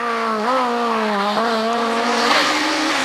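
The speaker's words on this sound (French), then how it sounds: "Sur sol sec, les Méganes sont extrêmement rapides et compétitives comme le prouve Rousselot" A Renault Mégane rally car racing on a dry special stage at the 2000 Rallye Antibes, its engine screaming loud and close, with revs climbing and dropping through quick gear changes.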